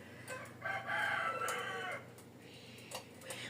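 A rooster crows once in a long drawn-out call, fairly close and clear, followed by softer clucking and faint bird sounds over a quiet outdoor background.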